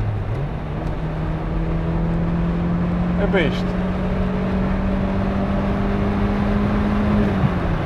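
A 1989 Citroën BX GTi 1.6 engine climbs steadily in pitch as it revs up under acceleration, a continuous close drone with road noise beneath, and a brief voice speaks partway through.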